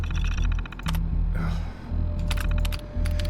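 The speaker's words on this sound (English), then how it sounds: "Are you just like typing in randomly?" Quick clattering keystrokes on a computer keyboard come in short bursts over a steady low hum from a game, with brief pauses between clusters of taps.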